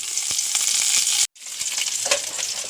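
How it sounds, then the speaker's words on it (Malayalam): Okra sautéing in oil with tamarind in a pan, a loud close sizzle with crackling pops, cut by a brief gap of silence before the frying hiss returns. "പുളി എണ്ണ ഒഴിച്ചിട്ട് വാട്ടിയെടുക്കാമല്ലോ"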